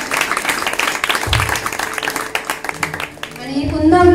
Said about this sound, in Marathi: सरांसाठी आपण जोरदार टाळ्या वाजवूया